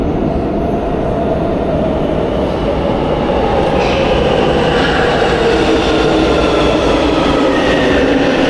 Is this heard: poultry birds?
no